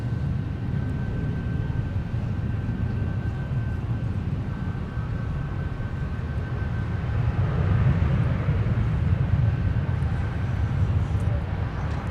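An Alaska Airlines jet bound for Portland at Minneapolis–Saint Paul airport, heading out on runway 12 left; a steady, broad engine roar that holds throughout and swells slightly midway.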